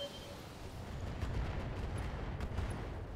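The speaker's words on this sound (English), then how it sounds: "Finish off that javelin with missiles!" A salvo of missiles striking a Javelin mech in the video game Battletech, heard as a fairly faint, dense rolling rumble of overlapping impacts with no talking.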